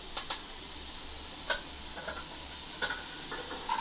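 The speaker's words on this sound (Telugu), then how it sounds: "ముందుకైతే ఎల్లిపాయ వేసుకుంటున్నాను ఎల్లిపాయలు బాగా వేగాలి" Garlic sizzling in hot oil in a pan for chicken curry, a steady close hiss with a few sharp clicks and pops scattered through it.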